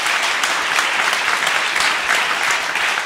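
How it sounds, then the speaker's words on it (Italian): A comedy club audience applauds the guest with dense, continuous clapping that holds at an even, loud level throughout. "E allora un altro applauso per favore all'ospite Greg."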